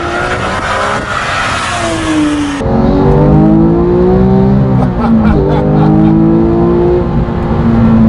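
A loud Porsche 911 GT3 RS 4.0 engine revs and accelerates close by, pitch climbing through several gear changes with a steady roaring whine.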